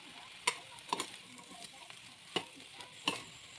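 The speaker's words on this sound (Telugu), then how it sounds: "ఇదంతా ఒకసారి బాగా కలుపుకుందాం అండి." A spoon scrapes and knocks through chicken fried rice tossed with soy sauce in a pan, four or five sharp clinks standing out over a soft, low sizzle.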